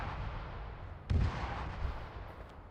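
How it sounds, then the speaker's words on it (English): Distant artillery fire in the video game Arma 3: a single heavy boom with a short rumbling tail, rising out of a steady low ambient roar and fading over about a second. "That's a brilliant artillery mission."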